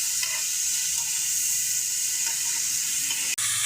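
Ginger and garlic paste sizzles steadily in a hot pan while being fried for a chicken roast, a dense continuous crackle with a brief stir or knock near the end.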